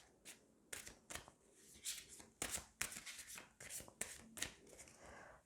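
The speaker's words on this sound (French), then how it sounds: "Je bats mes cartes." Playing cards being shuffled by hand, close and quiet, a series of crisp riffling bursts and soft slaps at an irregular rhythm, with faint breathing or murmur between them.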